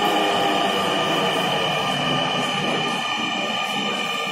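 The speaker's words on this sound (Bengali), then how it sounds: "আমার ট্রেন চলে আসছে, এখন আমি উঠে যাবো ট্রেনে" A metro train arriving at a station, a loud, sustained rumble and whine from the carriages close by, holding steady throughout.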